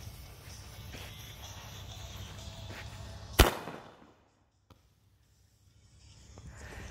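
A single sharp firework bang bursts out mid-clip over faint background noise, then its echo fades into near silence before quiet ambience returns.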